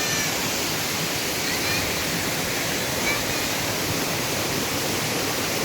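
Bamni Falls in Purulia seen from below, a steady broadband rush of falling water heard at a distance, even and unbroken throughout with no talk.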